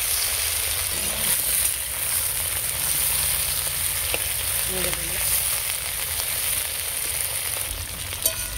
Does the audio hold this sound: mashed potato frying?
yes